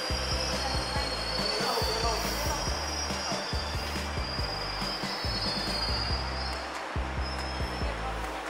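Inside a moving MRT train: a steady low rumble and rhythmic wheel thumps fill the carriage, with a constant hum throughout.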